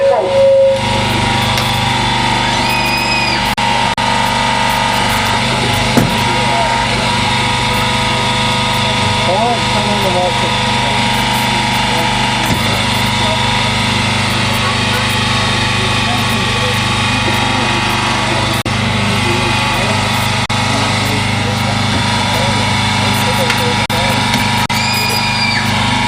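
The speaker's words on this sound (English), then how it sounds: "using the combination tool to actually nip the ceiling of the vehicle" Firefighters work a hydraulic combination tool on a car's roof and posts at a fire station open day, giving a steady droning engine hum with occasional creaks and cracks of metal under loud background noise.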